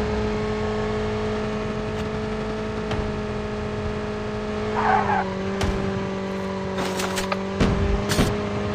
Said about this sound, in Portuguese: A batida de carro aí atrapalhou a mira da smoke.